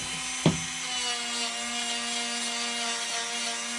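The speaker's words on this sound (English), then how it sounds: "I'll just take this little sanding buffing wheel here." A small sanding and buffing wheel runs steadily against carved wood for a brown trout carving, giving a continuous high whirring hum with one brief knock near the start.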